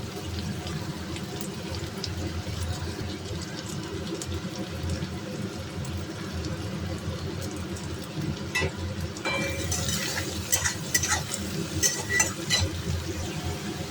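Onion and tomato fry for a curry, a steady low sizzle with stirring, and brighter clatter and scraping sounds grow louder near the end.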